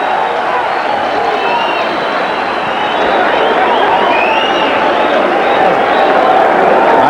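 A boxing arena crowd roars steadily and loudly throughout a first-round fight between Darrin Van Horn and Iran Barkley, a dense, continuous wall of cheering with commentary voices underneath.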